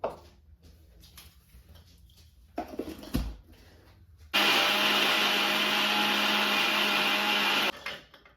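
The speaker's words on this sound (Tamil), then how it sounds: "பிளைண்டரில் போட்டு கொஞ்சம் அடிச்செடுக்கணும் கொஞ்சமாக" A kitchen blender grinds fried boondi for Tamil-style laddu, a loud steady whirring roar running about three seconds after a few soft kitchen clatters, then cutting off abruptly.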